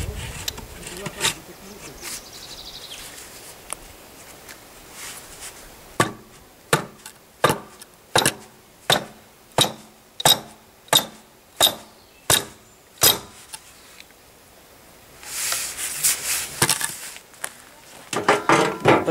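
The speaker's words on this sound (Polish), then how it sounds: "Pora nabić żelazec jeszcze raz." An axe head is hammered onto its wooden handle for a self-splitting axe: about a dozen sharp, evenly spaced blows ring out close by, followed by shuffling handling noise.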